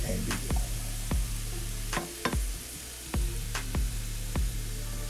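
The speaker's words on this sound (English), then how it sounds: "while your vegetables are sauteing at a low heat" Onion, garlic and peppers sauté in a pan over medium-low heat, giving a steady sizzle up close, broken by several sharp scraping taps of a utensil as the vegetables are stirred, with no talk.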